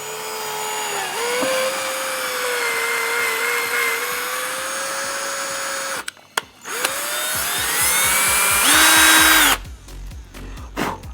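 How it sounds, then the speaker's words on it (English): A drill cuts threads into an airsoft hop-up unit, whining steadily with pitch dips as it bites into the part, then several short stop-start bursts and a higher-pitched final spin-up, close and loud. "As we keep pushing forward, the threads are going to start being cut in here."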